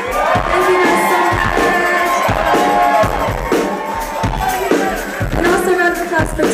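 A dense crowd at a live concert roars and cheers continuously for a band, loud and close, with whoops rising over a steady wash of noise.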